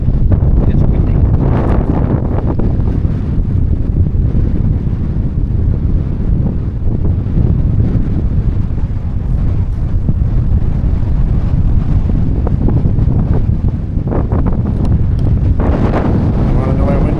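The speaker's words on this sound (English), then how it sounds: "It's windy." Strong wind buffets the microphone outdoors at an apple orchard, a loud continuous roar with gusty surges and rumbling low-end, no clear voices over it.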